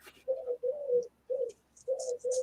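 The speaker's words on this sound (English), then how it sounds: "I think there's a bird on the balcony." A pigeon cooing on a balcony, four or five low, soft hooting coos in an even rhythm with brief gaps, fairly close, with faint high chirps near the end.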